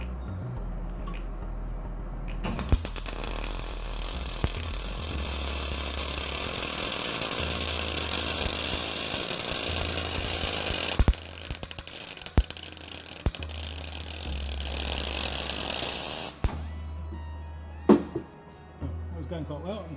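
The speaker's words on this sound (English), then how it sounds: "I'm going to put a tack on the end I'm welding towards." A MIG brazing welder runs a continuous weld bead, a steady crackling hiss that holds for several seconds with a few sharp pops, starting and stopping abruptly, while someone talks over it.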